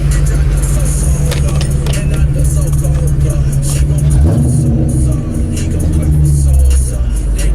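A Ford Mustang fitted with a Hifonics Brutus audio install drones steadily at close range with heavy low-end rumble, its pitch rising and falling through gear shifts, while people talk over it.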